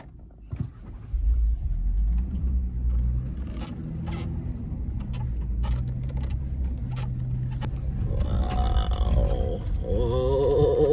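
A car drives across hard-packed sand at a surf spot, a steady low rumble of engine and tires with occasional scrapes and rattles, nearby and continuous, with no talking.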